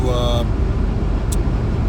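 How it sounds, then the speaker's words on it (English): A car travels at a steady 110 km/h on cruise control along a highway near tunnels, giving an even, continuous road and engine rumble, with a brief voice at the start. "My car is moving at 110 kilometers all the time because of the cruise control."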